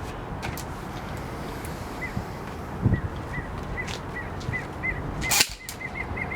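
An airsoft gun with a stock barrel fires 0.20 gram BBs outdoors: two sharp cracks a few seconds apart over a quiet, faintly noisy background, the second louder and snappier.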